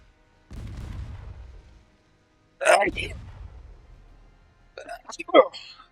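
Deep booming naval artillery shots and explosions from the video game Ultimate Admiral: Dreadnoughts go off in a few separate bursts, each with a rumbling tail, with brief voice-like sounds mixed in.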